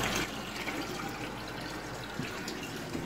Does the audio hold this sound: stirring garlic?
no